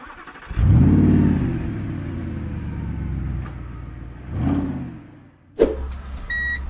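Dubbed car engine revving over an electric Citroën Ami Vibe: a loud rev that swells then holds, a second smaller rev, and a sharp burst near the end, with no talk.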